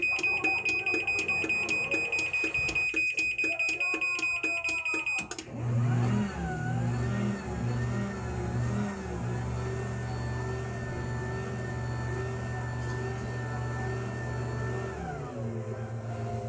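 A Step Saver garage door opener runs through its limit setup, with a steady high electronic beep tone at the start, then a motor hum and whining drive as the door travels open and closed, loud and continuous.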